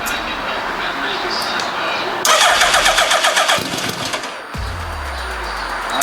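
A motorcycle that has sat unused for four years cranks rapidly with the starter, then catches and fires up into a loud, close, rough idle.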